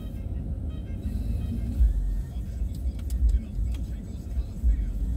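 A truck engine idles in a low, steady rumble close by, with brief thumps and clicks as the windows are worked, while people talk over it throughout.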